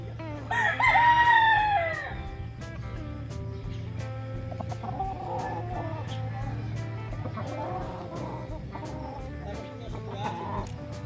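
A gamefowl rooster gives a loud, close crow at the start, then softer clucks and other fowl sounds carry on over a steady low hum.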